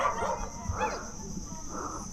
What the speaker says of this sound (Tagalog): Mukhang makipag-away pa dun sa ibang tropa ng mga aso.